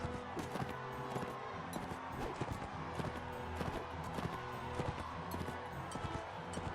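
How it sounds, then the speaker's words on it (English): A horse gallops in the video game Mount & Blade Warband, its rapid clip-clop hoofbeats running steadily under dense battle noise with sharp thuds and impacts scattered throughout, fairly faint overall. "My horse is about to die here."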